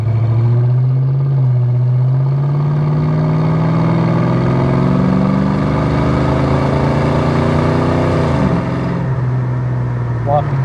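A 1989 Ford Mustang LX hatchback's exhaust rumbles steadily from inside the car while driving, the engine note rising under throttle, dipping around eight seconds, then settling back to a steady drone.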